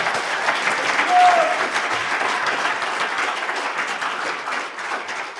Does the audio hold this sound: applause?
yes